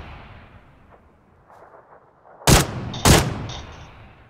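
Gunfire in the battle royale game PUBG: after a quiet stretch with faint background sounds, two loud, sharp shots ring out about half a second apart, each followed by a short decaying tail.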